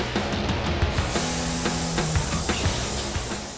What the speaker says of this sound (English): let's paint the car